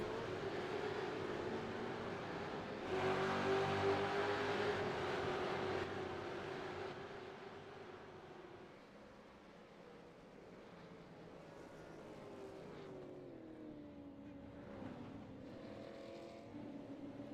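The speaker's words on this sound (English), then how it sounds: "The green flag flies at Oran Park and the V8 supercars are underway." V8 Supercars racing at Oran Park Raceway in the iRacing sim, a continuous blend of engine drone and revving from several cars, swelling louder for a few seconds before easing into a steady mid-level roar.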